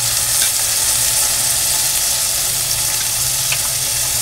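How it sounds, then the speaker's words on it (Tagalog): Pork chop frying in a pan, giving a loud, continuous sizzle with faint crackles and pops throughout and no voices. "hayaan po muna natin siyang maprito ng konti"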